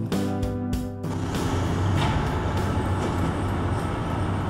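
A Stuttgart S-Bahn ET420 electric multiple unit runs past, a steady loud rumble with rolling wheel noise that stays constant throughout after a brief tonal hum at the start.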